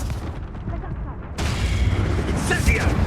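Confringo blasting curse in Hogwarts Legacy bursts into a loud booming explosion that rumbles on under a shouting voice, following a stretch of battle noise.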